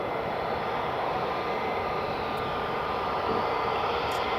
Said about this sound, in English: There's EasyJet just taxiing along.